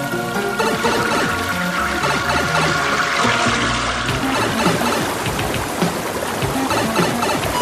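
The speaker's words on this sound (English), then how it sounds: "my brilliant new invention, the Power Shower, is a super colossal success! I make it rain on the surface of the Mushroom Kingdom." Cartoon water gushes from a Power Shower invention raining onto the Mushroom Kingdom, a loud, dense rushing and splashing torrent that roars continuously without pause.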